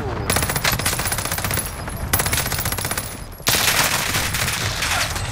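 Dense, rapid automatic gunfire in a first-person video game shooter, a continuous rattling burst with brief breaks, loud and close, continuing through the whole stretch.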